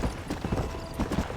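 Horse hooves clip-clop at a steady trot in the Western video game Red Dead Redemption, a close, rhythmic series of soft thuds over a continuous background hum.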